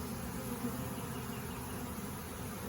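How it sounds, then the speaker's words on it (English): A honey bee swarm being hived into a box, giving a steady, dense buzzing hum from many bees close by, continuous and even throughout with no voices. "Now they're really starting to march up that box."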